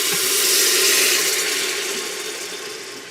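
Half a cup of chicken broth poured into an Instant Pot in a boat galley, a loud close rushing splash that swells and then tapers off gradually, with no talking.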